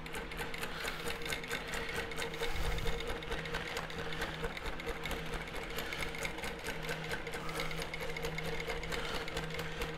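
A longarm quilting machine stitches an all-over meander basting pattern, a rapid, even mechanical needle chatter that runs continuously at close range, with a faint hum beneath.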